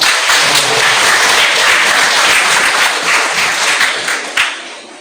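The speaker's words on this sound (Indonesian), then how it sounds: "Tepuk tangan dulu buat" Audience at a farewell gathering gives loud, close applause, many hands clapping densely and steadily before the sound thins and tapers off near the end.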